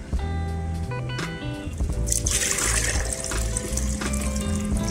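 Water runs and splashes steadily into a container at a camping setup, a continuous loud pour with music-like tonal layers underneath throughout.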